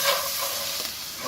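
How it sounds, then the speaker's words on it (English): Milk being stirred into country gravy in a hot pan gives a close, continuous sizzling hiss with soft scraping, brief and steady without any talk. "we're just going to gradually stir this milk in and let it cook"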